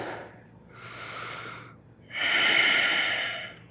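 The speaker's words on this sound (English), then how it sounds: "Take a deep breath." Two deep breaths during a yoga class: a slow inhale through the nose, a pause, then a longer, louder exhale, close and alone with no talking.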